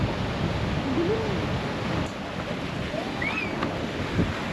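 Ocean waves wash onto Chesterman Beach in Tofino in a steady, broad roar mixed with wind noise on the microphone, while a faint voice and a brief whistle-like call sound in the background.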